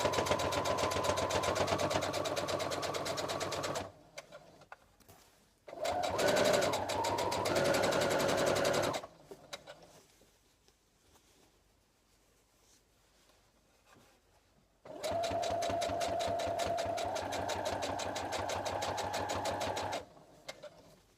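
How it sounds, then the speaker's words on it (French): A sewing machine topstitches along the edge of a new ironing board cover, running in three loud, steady bursts of rapid stitching with quiet pauses between them. "Le but étant de surpiquer le plus au bord possible sur l'envers."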